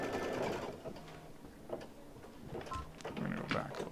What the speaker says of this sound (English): So how this needle threader works